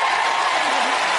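A ballroom dance TV studio audience gives a dense, continuous wash of applause and cheering, loud and steady throughout, with no talk over it.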